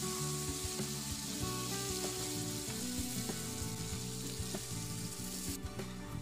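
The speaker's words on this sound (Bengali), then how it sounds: "এবার আমি একটু নুন, মিষ্টি আর হলুদ দিয়ে আবার খানিকক্ষণ পটলটাকে ভালো করে ভেজে নেব।" Pointed gourd frying in a pan with salt, sugar and turmeric gives a steady, loud sizzle that carries throughout, with faint scrapes and clinks from the pan underneath and no voices.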